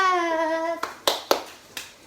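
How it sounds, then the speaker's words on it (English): After a sung note, hands clap four times in a loose, uneven rhythm during a worship song for Jesus; the claps are sharp and close. "Clapping, clapping, make it clap for Jesus"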